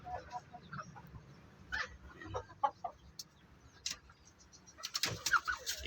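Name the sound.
chickens clucking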